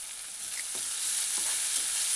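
Finely chopped onion fries in a pan with a soft, steady sizzle and a few quiet stirring scrapes, close and without talk.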